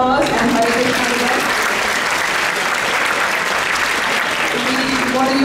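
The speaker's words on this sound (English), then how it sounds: "a big round of applause" An audience at a temple New Year gathering applauding, a dense, sustained wash of clapping filling the whole stretch at steady loudness, with a voice faintly audible over it.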